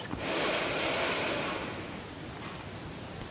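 A long, audible breath drawn in and let out during a gentle yoga stretch, a soft breathy rush swelling early then fading into quiet room hiss, close to the microphone with no talking.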